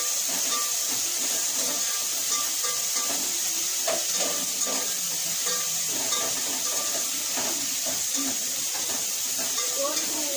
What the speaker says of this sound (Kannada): ನೆಕ್ಸ್ಟಿಗೆ ಬಂದುಬಿಟ್ಟು ಶುಂಠಿ ಬೆಳ್ಳುಳ್ಳಿ ಪೇಸ್ಟ್ ಆ್ಯಡ್ ಮಾಡಿ ಫ್ರೈ ಮಾಡ್ತಾ ಇದ್ದಾರೆ.